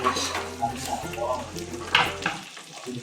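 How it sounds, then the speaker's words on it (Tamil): Thinly sliced onions fry in a pan for millet coconut milk rice, giving a soft, continuous sizzle broken by scraping stirs of a spoon against the metal, close and moderately quiet. "நீட்டமாக அரைஞ்ச வெங்காயத்தை ஆட் பண்ணிக்கிறாங்க"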